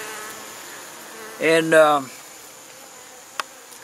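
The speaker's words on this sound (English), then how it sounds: "them bees coming in the evening time" Bees around a nuc hive with a screened bottom board hum faintly and steadily in the evening, and someone speaks one brief word over the drone.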